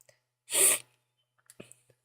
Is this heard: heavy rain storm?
no